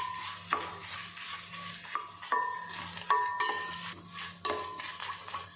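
Pepper and kalpasi dry-roasting in a pan for a Chettinad chicken curry, with soft steady sizzling and repeated scraping and stirring strokes close up, no voices.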